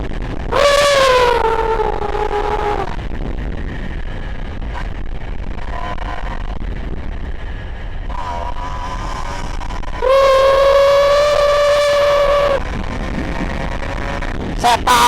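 A Honda NSR 150 R two-stroke motorcycle revs hard as it speeds up, giving two loud rising whines with a pause of quieter running between them.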